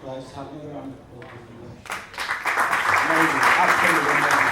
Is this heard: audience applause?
yes